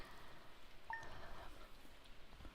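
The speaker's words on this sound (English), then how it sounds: "I love the inside cozy rain sounds." Indoor rain ambience from the Stardew Valley video game, a soft, steady patter heard as if from inside a cozy house, continuous and fairly faint with no talking.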